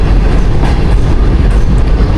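The Green Line Express pulls out of Margalla railway station in Islamabad with a loud, steady rumble and roar of rolling carriages close by, continuous and with no voices.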